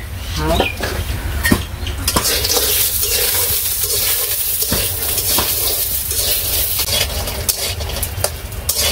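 Lentil dumplings (dal bori) fry in a pan in a village kitchen, a steady sizzle close by, broken by scraping and clinks of a utensil against the pan.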